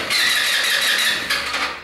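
An MX RX-150 motorcycle with high 150 PSI compression being cranked with the starter, a loud close whirring crank that runs steadily, pauses briefly and resumes without catching.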